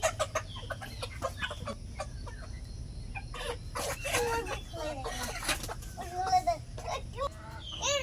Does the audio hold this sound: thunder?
no